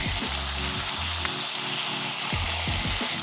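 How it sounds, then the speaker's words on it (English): Chicken sizzles loudly in a frying pan with a steady, hissing crackle of hot oil, close and continuous throughout. "Listen to that sizzle, huh?"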